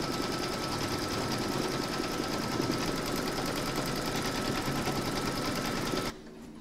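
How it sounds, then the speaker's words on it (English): An embroidery machine stitches round two of a large cross appliqué design through a hooped layer of fabric and batting, a close, steady mechanical stitching hum that runs alone for about six seconds and then cuts off. "Pop your hoop into your machine and stitch round number 2 to secure them."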